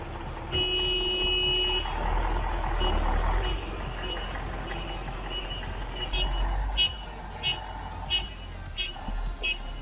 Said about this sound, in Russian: Пришлось немного разобрать забор, чтобы машина могла заехать.